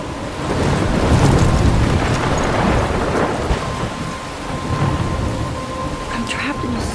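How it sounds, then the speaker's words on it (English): Steady heavy rain pours with rolling thunder rumbling underneath in a storm scene from the video game Life is Strange, loud and continuous with no voices. "I'm trapped in a storm?"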